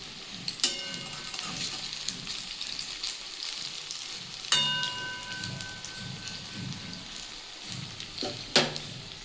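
Cabbage fritters sizzle in hot oil with a continuous crackling hiss, punctuated by a few sharp louder pops and spatters at intervals.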